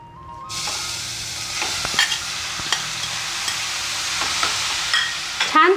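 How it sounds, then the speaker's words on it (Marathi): Grated carrot sizzles and fries in hot ghee in a pan on a gas stove, with steady hissing and occasional scraping stirs, close and alone. "छान तुपामध्ये परतून घ्यायचा."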